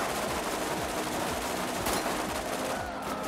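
Gunfire from a standard weapon in Borderlands, a steady stream of rapid shots with repeating pulses, fairly loud under a busy, noisy game soundscape.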